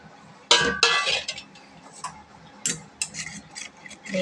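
A spoon clinks against a bowl while stirring spiced tempered yogurt: a string of sharp, bright taps, some close together and others spaced apart, heard alone without talk.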